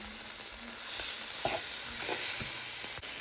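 Stir fry sizzles in a gigantic skillet, a steady close hiss broken by a few clinks and scrapes of a utensil stirring.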